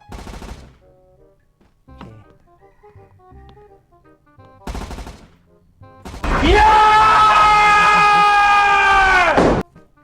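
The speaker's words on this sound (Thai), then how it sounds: "ปืนลั่นปืนลั่น" Gunfire in the Roblox obby game Squirrel With a Gun, with a few sharp isolated shots followed by a loud sustained burst of rapid fire lasting several seconds, and a voice talking in between.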